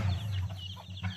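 Chickens cluck softly and continuously at feeding time on a farm, a low steady murmur of several birds close by with no talking.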